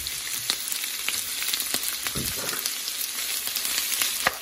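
Shrimp going into a hot pan with spinach, Mexican style, while the mix is stirred: a constant crackling fry close by, broken by sharp utensil taps and scrapes, with no one talking.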